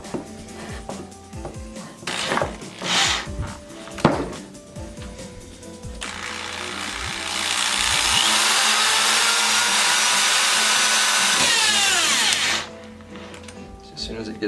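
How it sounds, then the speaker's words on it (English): Power drill boring with a really big drill bit while installing guitar tuners and a string retainer bar on a DIY bowed guitar; a few short bursts, then a long steady loud whir of about six seconds that winds down and stops. "really big drill bits tend to always be a struggle to use without them just stopping."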